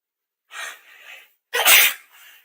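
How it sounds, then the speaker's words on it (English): A single loud, explosive human sneeze breaks out after a softer preceding inhale and breathy build-up, close to the microphone and heard alone without talk. "Okay, I sneezed."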